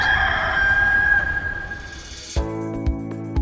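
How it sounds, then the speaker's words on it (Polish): A rooster crows loudly in one long, drawn-out call that fades out, followed by a few soft taps. "Piotr znowu zaprzeczył i zaraz zapiał kogut."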